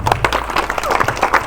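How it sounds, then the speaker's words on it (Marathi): Applause from an audience at a free film screening, brisk clapping from many hands with voices talking over it, close and fairly loud. "ओके, जोरदार टाळ्या."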